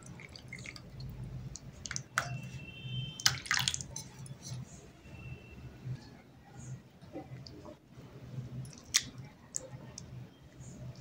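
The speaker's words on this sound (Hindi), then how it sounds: "पानी डाल के धो लेते हैं फिर से" Water sloshes and drips as grated potato is rinsed and squeezed by hand, with soft splashes and clicks throughout.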